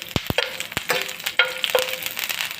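Green chili and curry leaves drop into hot oil, giving a few sharp pops and spits followed by an uneven, close crackling sizzle.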